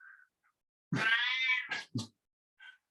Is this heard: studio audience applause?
no